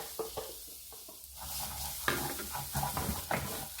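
A spatula scrapes and stirs through a thick rice porridge mixture with meat and shiitake in a pot, with a steady soft sizzle underneath and irregular scraping strokes close by.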